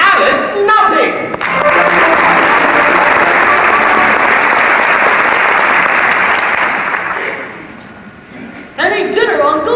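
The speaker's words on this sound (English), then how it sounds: "Ladies and gentlemen, a warm round of applause, if you will" A theatre audience at a US national touring production of the musical The Mystery of Edwin Drood breaks into loud, sustained applause lasting several seconds, dense clapping that swells and then fades, with voices speaking briefly before and after.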